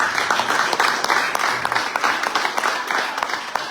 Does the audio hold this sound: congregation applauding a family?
yes